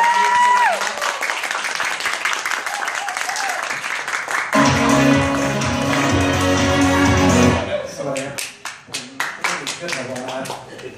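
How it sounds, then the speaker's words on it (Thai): An audience claps to welcome a speaker at a product testimonial gathering in Chiang Mai, with an announcer talking first and loud music swelling in the middle before scattered claps trail off near the end. "ขอพลังเสียงปรบมือต้อนรับดังๆนะครับ"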